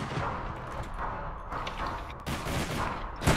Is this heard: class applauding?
no